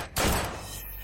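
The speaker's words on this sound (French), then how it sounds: "D'où viennent ces coups de feu?" A single loud, close gunshot bursts out and then decays into a lingering, reverberant tail, with no voices heard.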